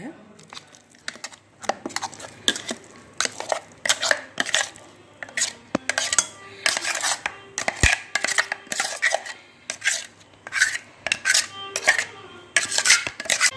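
A spoon scrapes and clinks against bowls repeatedly while transferring cluster bean chutney into another bowl, with soft wet scooping sounds in an irregular rhythm, close up.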